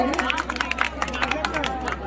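An audience at an Urdu poetry mushaira claps in a lively, uneven patter of many hands, with crowd murmur and talk mixed underneath.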